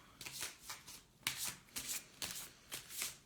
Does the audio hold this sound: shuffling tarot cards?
yes